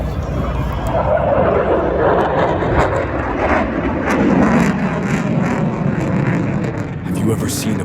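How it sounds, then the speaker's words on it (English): An F-22 Raptor fighter jet flying over the Dayton skies at an air show, a loud, sustained jet roar that swells and shifts in pitch, with crowd chatter underneath. "The F-22 Raptor turned the Dayton skies into its own private stage."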